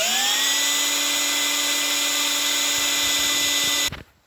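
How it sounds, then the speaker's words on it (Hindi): A power drill bores a pilot hole into a broken bolt, giving a loud, steady high-pitched whine close by that holds for about four seconds, then cuts off abruptly. "मैं इसके अंदर अभी जब ड्रिल मशीन पर ड्रिल करता हूँ"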